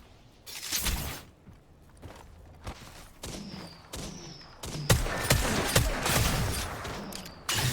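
Gunfire from a long-range battle in Apex Legends: scattered shots and bursts, some sharp and loud, others distant, with occasional thuds, running continuously without speech.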